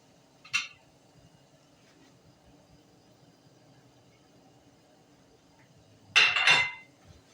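Chicken being stirred with spices and onion in a cooking pot: two brief metallic scraping clatters, a short one at the start and a longer one near the end, with a quiet steady hum between them.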